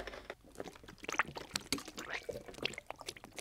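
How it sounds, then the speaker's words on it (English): Water poured into the tank of a cheap RC drift car fitted with a rocket in a workshop, heard as faint, irregular trickling and dripping splashes with small plastic clicks, quiet and close. "now I just presume the water goes in here"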